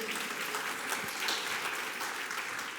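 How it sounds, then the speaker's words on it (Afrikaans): Congregation at a Sunday church service clapping for the musicians, a dense, even patter of hands sustained throughout at moderate distance. "Kom ons gee hulle hande klap."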